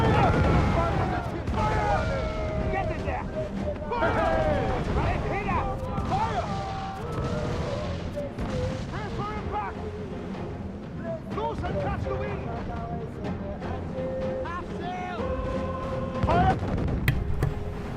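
Ship cannons firing during a naval battle in Assassin's Creed IV: Black Flag, heavy booms and rumbling blasts layered under shouted voices and tonal game music throughout.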